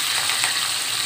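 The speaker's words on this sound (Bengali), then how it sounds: "তেলটা গরম হওয়ার পরে মাছগুলো দিয়ে দিচ্ছি। এখন মাছগুলো আমি ভালোভাবে ভেজে নিব।" Rohu fish frying in hot oil in a frying pan, giving a steady, dense, close sizzle that holds evenly throughout, with no voices.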